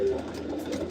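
Young pigeons in an indoor loft coo softly, a low murmuring call over a faint background hum, with no voices.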